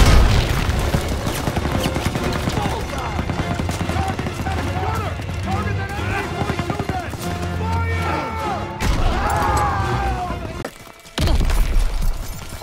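A Call of Duty WW2 battle around an MG42 machine-gun nest: loud, continuous rattling gunfire and heavy booming explosions, with shouting voices mixed in and a brief drop in the noise before the firing resumes.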